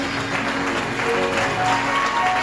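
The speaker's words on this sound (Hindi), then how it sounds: "एक बार फिर से जोरदार यीशु के लिए ताली बजाएं" Church congregation applauding for Jesus at a Hindi worship service, a steady, dense wash of clapping filling the whole moment at moderate loudness.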